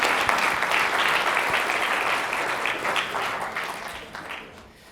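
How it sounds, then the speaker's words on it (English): An audience applauds to welcome a speaker at a talk, a dense, even wash of clapping that holds steady and then gradually fades out near the end. "let's give a warm applause"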